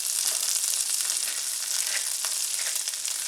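Butter and olive oil sizzle over medium heat in a skillet, a steady bright crackling hiss with scattered pops, close and even throughout.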